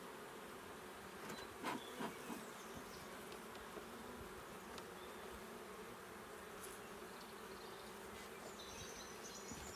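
Honey bees hum in a steady, faint drone at an open hive during a routine spring inspection, with a few small knocks and clicks from handling over the continuous buzz.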